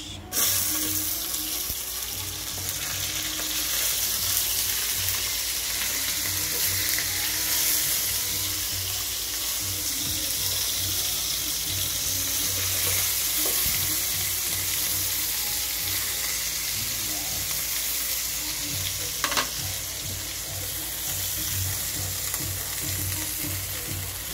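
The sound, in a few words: fish frying in a pan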